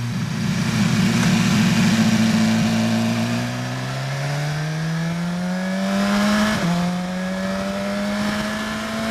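A 2016 BMW S1000XR motorcycle accelerates hard on a highway, its loud, close engine note climbing steadily in pitch with two distinct gear shifts, and no talking.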